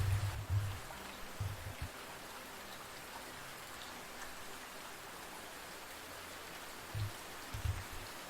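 Steady rain patters on a roof, a dense hiss of drops with occasional low thumps, continuous and fairly quiet throughout.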